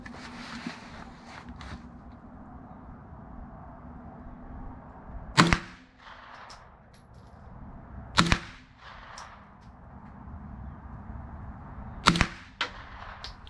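Suppressed B&T SMG-M-9 submachine gun in short configuration with a flow-through end cap fires single muffled shots, three sharp reports spaced a few seconds apart plus fainter impacts, over quiet outdoor background.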